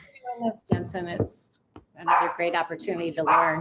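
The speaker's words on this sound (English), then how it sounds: "Oh, sorry about my dogs." Dogs bark at home during an online workshop call, their barks mixed in with people talking over a video connection.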